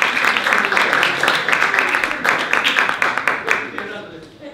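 An audience at a pub talk event claps for the presenter, a dense, continuous round of applause that stays loud and then tapers slightly toward the end.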